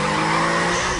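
A car's tires screech in a loud, sustained skid as it brakes hard to a stop, filling the whole moment on a tense roadside.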